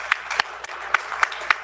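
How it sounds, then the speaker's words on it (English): An audience at a public hearing claps, with scattered distinct hand claps over a steady murmur of crowd noise, moderately loud and a little distant. "Great hand of applause"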